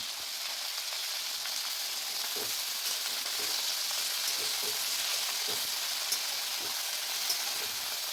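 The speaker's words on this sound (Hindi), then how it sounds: "आलू, कैप्सिकम, गाजर, कैरेट, ये सबको थोड़ा फ्राई कर लेंगे।" Potato, capsicum and carrot frying in a pan, a steady, even sizzle with a few faint stirring taps throughout, close and unbroken by speech.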